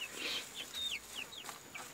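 A hen makes a run of soft, high clucks and short rising chirps on a homestead, fairly close and steady over the brief clip with no talking.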